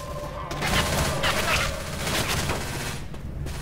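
Rapid gunfire bursts in the Left 4 Dead 2 video game, a fast run of loud shots in short volleys with gaps between them, under a faint voice.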